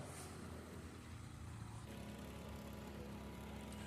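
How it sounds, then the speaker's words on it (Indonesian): Engine of a rice seedling planting machine in a Malaysian paddy field, a steady, fairly loud mechanical drone that runs continuously throughout with no speech. "lebih cepat karena menggunakan tenaga mesin semai"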